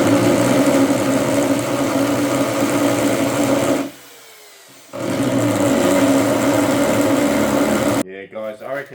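A drill in hammer mode bores into a rock slab for a native bonsai slab planting. It makes a loud, steady, rattling roar that stops for about a second and then resumes, and a voice speaks briefly at the end.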